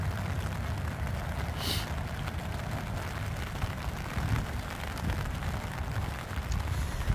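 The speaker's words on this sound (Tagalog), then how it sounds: "Ay, lumakas si ulan." Heavy rain pours down beside a river, a steady dense hiss of falling water that fills the scene evenly and continuously, with no talking.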